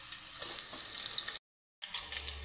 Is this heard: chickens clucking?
no